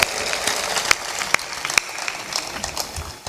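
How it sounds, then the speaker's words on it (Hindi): Audience clapping at a spiritual discourse: a loose, uneven scatter of hand claps with several sharp, close individual claps standing out over a thinner background patter. "तालियां जोर से बजा दिया करो"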